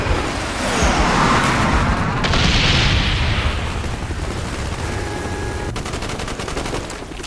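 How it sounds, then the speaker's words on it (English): Explosive booms and gunfire from a napalm strike in Call of Duty: Black Ops, a dense, loud barrage that holds steady for several seconds and then eases slightly, with no talk over it. "Friendly napalm strike on the way."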